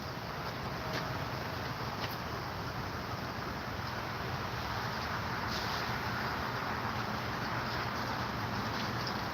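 A steak sears on very high heat, giving a loud, steady, even sizzle that runs without a break from start to finish.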